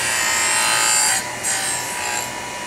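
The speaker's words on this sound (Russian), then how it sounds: "желательно его шлифовать в одну сторону, чтобы пылесос забирал пыль более эффективно" Graphite is sanded in a tool workshop while a vacuum extractor runs, giving a steady high abrasive whir with a brief dip and change in pitch partway through.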